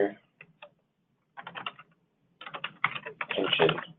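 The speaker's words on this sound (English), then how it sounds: "I'm going to have to type it out" Keys clatter on a computer keyboard in short quiet bursts separated by pauses, ending in a longer run of rapid typing, close and alone.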